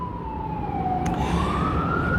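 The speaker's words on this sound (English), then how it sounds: "every time I set up to do something, sirens go off." A wailing siren sweeps slowly down and back up in pitch, fairly distant, with steady road noise beneath it.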